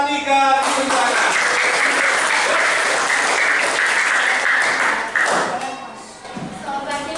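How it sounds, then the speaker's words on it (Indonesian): A class applauds a student group about to present in a religion lesson, a loud, full burst of many people clapping that holds steady for about five seconds before thinning out, with some voices mixed in. "1, 2, 3, tepuk tangan."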